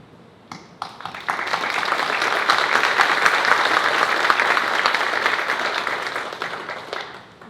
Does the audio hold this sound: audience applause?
yes